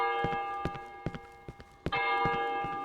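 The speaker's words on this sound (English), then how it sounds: "that bell doesn't really sound normal" A bell in the video game Cry Of Fear rings with a sustained tonal hum, struck again partway through, while rhythmic clip-clop knocks tick along underneath, fairly quiet.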